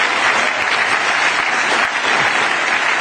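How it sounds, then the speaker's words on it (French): Audience applause, a dense, even wash of many hands clapping that stays loud and steady for the whole stretch with no talk over it. "Vous pouvez l'applaudir."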